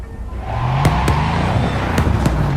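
A souped-up car engine in Cyberpunk 2077 rumbles steadily and splutters, with several sharp pops and backfires breaking through the low drone.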